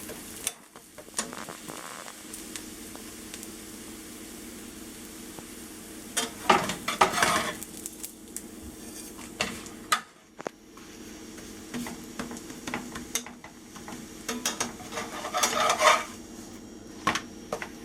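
Flatbread warms in a pan for a breakfast burrito, a low sizzle with intermittent clanks and scrapes of a utensil and pan, louder bursts of handling around the middle and near the end.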